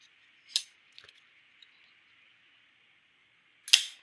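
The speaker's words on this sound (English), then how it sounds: "you can do a front flip on this knife" A Jack Wolf bolster lock knife flipped open, crisp metallic clicks: a sharp snap, a few faint ticks, then another sharp snap after a quiet pause.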